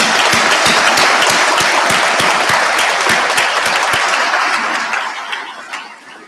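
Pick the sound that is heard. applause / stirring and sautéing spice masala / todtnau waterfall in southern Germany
applause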